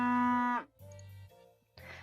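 A cow from the video game Peachleaf Valley: Seeds of Love lets out a loud, drawn-out moo that falls away. Two shorter, lower lowing sounds follow, close and alone.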